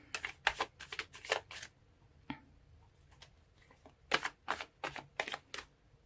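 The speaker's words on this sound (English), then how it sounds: "So let's pull more cards and see what we can get." Tarot cards shuffled and pulled from the deck, close up, in quick papery riffling bursts that stop for a pause and then start again, with no voice.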